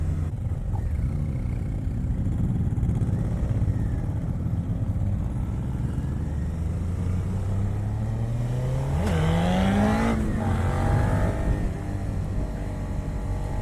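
A 2018 Suzuki SV650 ABS motorcycle is ridden, with a steady engine drone and wind noise under smooth throttle and one rising rev partway through, heard close with no talking.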